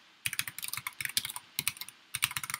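Quick bursts of typing on a computer keyboard, close and crisp, with a short pause partway through before another flurry of keystrokes.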